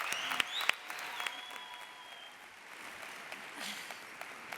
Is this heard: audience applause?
yes